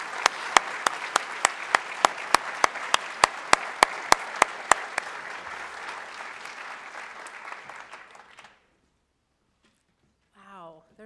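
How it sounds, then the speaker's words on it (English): Audience applause at an academy event: steady, full clapping with one sharp, regular nearby clapper standing out, fading out around eight seconds, followed by silence and then a voice speaking. "let's give all those folks a round of applause."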